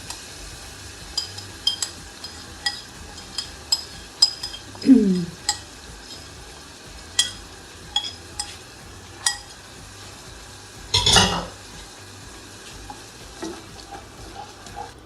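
Stirring and sizzling in a pan as ingredients go into frying garlic for a chicken satay sauce, with a burst of sizzle and scattered utensil clinks against the pan, no talking.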